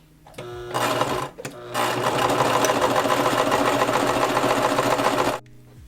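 A sewing machine stitches around a crochet crossbody bag, running in a steady, continuous whir for several seconds after a brief start and pause, close and fairly loud with no talking.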